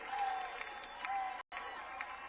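A softball stadium crowd reacts to a bad call at an Oklahoma vs Houston game with a sustained murmur of voices and scattered shouts. The sound is moderately distant, with a brief dropout midway.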